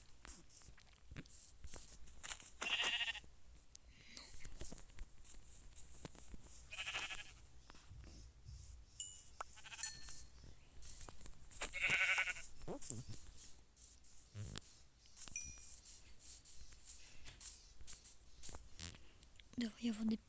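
Sheep bleat several times in a survival video game, short calls scattered among footsteps, rustling and quiet whispered talk over a low background.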